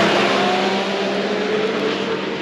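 A turbocharged Thundercat snowmobile launches off the line at a drag race in Inlet, New York, its engine a loud, steady, close roar that fills the whole short stretch with no talk over it.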